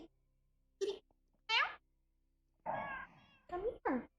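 A kitten meows five times in short separate calls, close and fairly loud, with quiet gaps between them and no talking.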